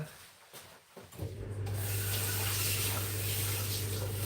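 Water runs steadily over an item being washed, a broad rushing flow that starts after a second of faint rubbing and continues to the end.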